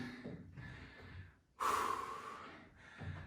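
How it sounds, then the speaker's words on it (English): Heavy, deliberate breathing during recovery between HIIT workout intervals: a few close inhales and exhales, with one loud, forceful breath out near the middle. "keep the breathing going in those recoveries"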